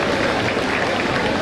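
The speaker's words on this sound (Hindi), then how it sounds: "तालियों से स्वागत करें विधायक जी का" Audience applause welcoming an MLA at a Panchkalyanak religious ceremony in Shakarpur, dense continuous clapping from a crowd with voices mixed underneath.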